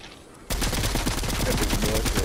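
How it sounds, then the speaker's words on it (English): Video game gunfire bursts out suddenly after a quiet moment, a loud rapid string of shots that continues without pause to the end. "This man Maul shoot my wall."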